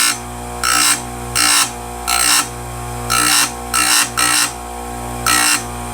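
A Stihl USG electric grinder sharpening a damaged chainsaw chain cutter: a steady motor hum broken by about seven short, harsh grinding bursts as the wheel bites the metal, loud and close.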